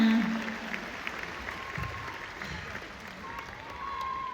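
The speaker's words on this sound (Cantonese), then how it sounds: "Give our dancers a 掌聲，多謝。" A concert audience applauds the dancers, a soft, steady patter of clapping in a large venue, with a voice talking over the crowd at the start.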